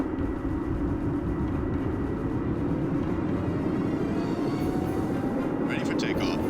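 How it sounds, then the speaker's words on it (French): A steady, loud mechanical roar with a rising whine as helicopter turbines spin up in strong wind, continuing throughout without any talking. "Démarrage des turbines"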